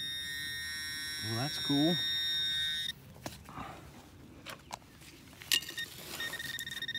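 A metal detector giving a high electronic signal tone while sweeping ground for deep targets, a steady beeping whine up close, with someone speaking briefly alongside rustling and a few other short tones.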